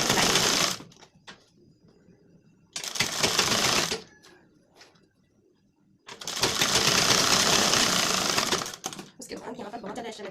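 Sewing machine stitching tucks on a blouse in three separate runs, the last one long and steady; close and fairly loud, with quieter gaps and handling sounds between runs.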